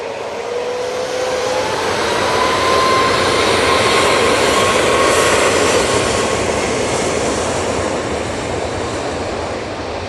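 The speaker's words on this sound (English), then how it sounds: "Qatar 787-9 Dreamliner at the bottom of Tango, ready to come on." Qatar Boeing 787-9 Dreamliner jet engines roar steadily at Manchester Airport, a loud, broad continuous rumble with a faint rising whine, heard from fairly close outdoors.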